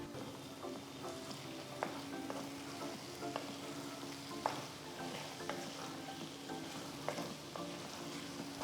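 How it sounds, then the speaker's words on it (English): Marinated prawns being stirred through tomato masala in a hot pan, a soft continuous sizzle broken by repeated scraping clicks of the spoon against the pan, close and fairly quiet. "Now add the marinated prawns and mix everything along with the masala."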